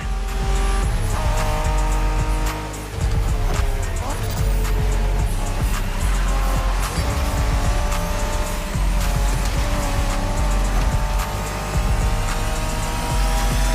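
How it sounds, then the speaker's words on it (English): Racing cars roar loudly and continuously in The Crew Motorfest video game during Japanese street racing, engines revving and shifting with tire squeal and skidding throughout. "We're going for some proper Japanese street racing."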